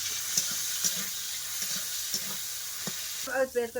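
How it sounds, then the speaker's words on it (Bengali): Prawns frying in oil, mustard or white oil, in a home kitchen pan, giving a steady close hiss of sizzling with occasional stirring clatters, then a brief burst of louder spattering near the end. "চিংড়ি মাছটা একটু ভালো করে লাল করে ভেজে নেবো"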